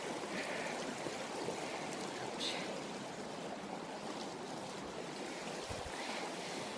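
A river flows steadily beside a log crossing at a 2016 outdoor camp, a continuous close wash of moving water with no break across the stretch.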